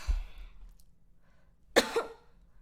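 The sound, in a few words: cough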